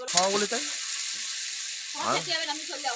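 Steady sizzling and frying of a curry made with prawns (golda chingri) in a pan in a village kitchen, heard close, under two people talking.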